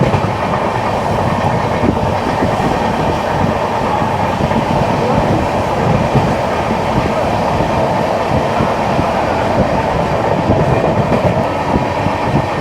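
Inside the Rajdhani Express, the train runs with a loud, continuous rumble and rhythmic wheel clatter, steady and close throughout.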